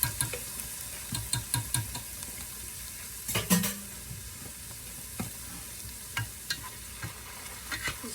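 Garlic and vegetables sautéing in a pan for a vegetarian lasagna, a soft continuous sizzle with regular utensil scrapes and taps against the pan, close but quiet, no voices.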